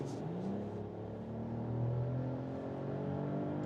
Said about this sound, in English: The engine is really loud.